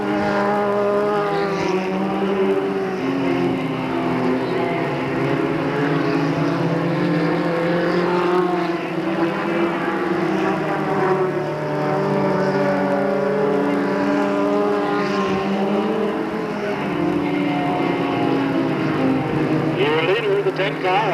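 Race cars circle Delta Speedway in a 1997 oval race, a steady continuous engine roar with rising and falling pitch throughout, under a public-address announcer calling the action.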